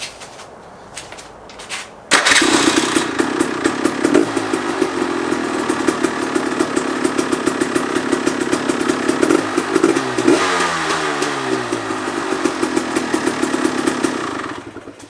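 A dirt bike engine fitted with a Lectron 38mm HV carburetor, sitting on a stand, fires up after about two seconds and settles into a loud, steady, close idle with a few blips of throttle.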